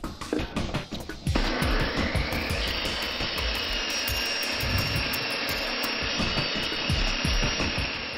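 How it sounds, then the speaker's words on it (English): A table saw cuts hardwood in a series of passes to notch it for a shaft, the blade whining loud and steady after a brief clatter of setup, pitch shifting slightly as the wood feeds through. "On the table saw, I'm making a series of curve cuts to make a notch for the shaft."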